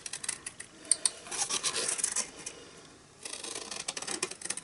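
Steady rasping snips of long-handled scissors cutting around a die-cut paper card, continuing in a close, scratchy rhythm with a brief pause midway before resuming.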